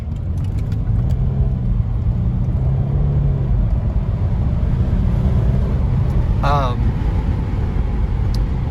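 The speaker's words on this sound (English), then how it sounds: "I'm going to do a quick acceleration here in this car because the torque rush is fantastic." A 2024 Mercedes-Benz E350 4Matic W214 accelerates on the road. A low engine note rises in pitch over a steady bed of tire and road noise, heard from inside the car, and a brief chirp sounds near the end.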